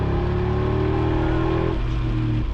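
A high-mileage Mercedes G55 AMG V8 revs loudly and steadily up close, its deep burbling engine note holding a rising drone before easing off near the end, with no voices over it.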